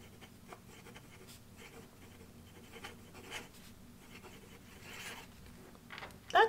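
Monteverde Super Mega fountain pen with an Omniflex nib writing a sentence on paper, a faint, close scratchy scribble of nib strokes running steadily with a few louder bursts and a sharp tap at the end.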